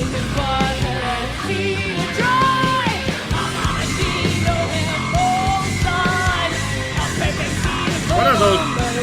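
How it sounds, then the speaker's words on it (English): Weird screaming vocal noises in a rock track, wailing yells rising and falling over dense, loud drums and guitars throughout. "I would like to know what those weird like screaming sounds were."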